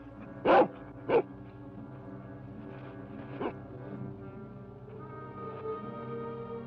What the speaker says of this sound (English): Tonto, a dog.